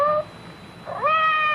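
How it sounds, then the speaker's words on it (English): A cat meows twice outside a door as a radio drama sound effect, two close, clear rising-falling cries separated by a short pause. "It sounded like Madame's cat, Francois."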